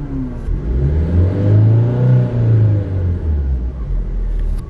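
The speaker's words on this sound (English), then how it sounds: "Let me start the car." Cheap car's engine turning over and catching, then revving up and settling, a rising and falling mid-pitched drone heard up close and loud inside the car, with no talking.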